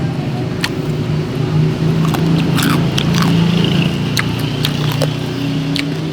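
Crisp crunching bites of crackly roast pork skin from a lechon, a few sharp crackles over a steady low background rumble, close to the listener.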